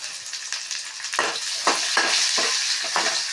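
Chopped onions sautéing in a pan with garlic for Tamil paruppu kadaiyal, a steady close sizzle with repeated spoon-stirring scrapes roughly every half second, no talking.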